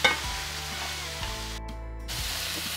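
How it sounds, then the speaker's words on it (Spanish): Onion and pepper sizzling as they soften in a pan with garlic, the base for a seafood fideuá: a close, steady hiss of frying that dips for a moment and then carries on evenly. "vamos a dejar aquí que se poche bien la cebolla y el pimiento"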